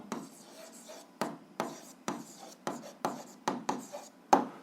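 Pen or marker writing an answer to a school algebra exercise, a series of about ten short scratchy strokes in an even rhythm, close and fairly quiet with no voice.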